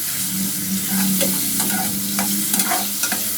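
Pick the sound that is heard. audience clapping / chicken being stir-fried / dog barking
chicken being stir-fried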